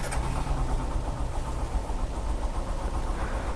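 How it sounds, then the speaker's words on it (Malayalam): A Hero Super Splendor XTEC motorcycle idles nearby, its exhaust giving a soft, steady low putter that stays even and quiet throughout, with no voices. "ഇതിൻ്റെ എക്സോസ് നോട്ട് ഇവിടെ നിന്ന് കേട്ട് നോക്കാം"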